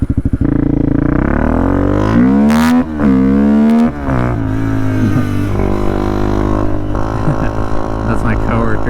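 Honda Grom motorcycle with a 300cc engine swap, engine note rising and falling through revs close by, loud and steady with a few sharp surges, with someone talking over it.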